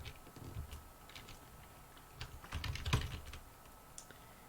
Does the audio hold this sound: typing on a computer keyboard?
yes